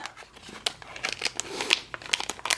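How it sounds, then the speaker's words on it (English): Crinkling plastic and paper with sharp scissor snips and tearing as Power Rangers Dino Charger toy packaging is cut open, a few quick cuts in bursts, close by with no talking. "So I'll grab the scissors and cut this thing open."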